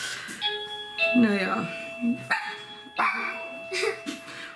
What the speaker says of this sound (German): die Klingel geht wieder und der Hund sagt Bescheid